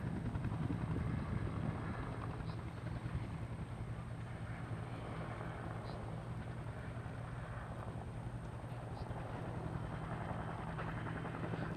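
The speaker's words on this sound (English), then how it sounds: "We had helicopters dropping stuff" Steady, continuous rotor and engine drone of a helicopter, constant in level throughout, with a low rumbling hum and no voices.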